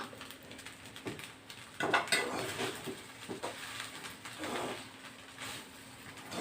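Parboiled rice and paneer are stirred in a pot over high heat, with a spoon scraping and clinking against the metal in irregular bursts, close and moderately loud.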